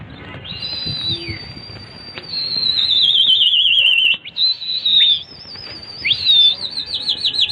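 Pigeons in flight, with bursts of wing flapping close by mixed with sharp high whistling tones that rise and fall over several seconds, loud and busy.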